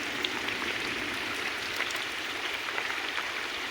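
Heavy evening rain falling in a village, heard as a steady, dense patter and hiss on surfaces, continuous and fairly close with no voices.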